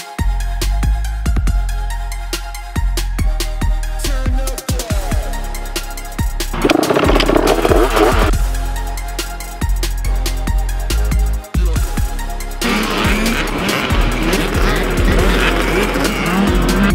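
Dirt bikes running motocross warm-up laps, loud engines revving and whining as they pass near and far, rising and falling with gear changes, and a louder pass late on.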